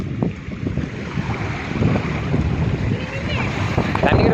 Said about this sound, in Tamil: தண்ணி எவ்வளோ ஸ்பீடாக வருது.